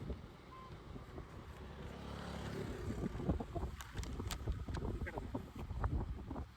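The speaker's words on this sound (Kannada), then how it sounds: "ಒಟ್ರಷ್ಟು ಗಾಳಿ ಉಂಟು ಗೊತ್ತಾಂಡೆ" Wind buffets the microphone in gusty rumbles in Udupi, rising and falling, with scattered rustling and light knocks over it.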